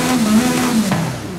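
A carbon-bodied Aston Martin Valhalla hypercar fires up and revs, a loud close engine note rising and falling with a strong steady tone, no talk over it.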